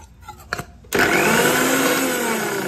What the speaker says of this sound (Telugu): ఎల్లిపాయ ముద్ద నురుక్కుందాం